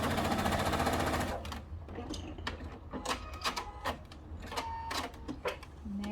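A sewing machine quilting the fabric top of a conical peg bag runs in a steady, close whir for just over a second, then stops, followed by scattered clicks and light handling sounds.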